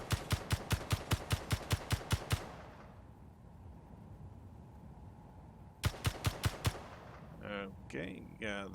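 Rapid bursts of turret gunfire in the space survival game Space Engineers, two loud volleys of evenly spaced shots separated by a quieter humming lull, with a voice briefly speaking near the end.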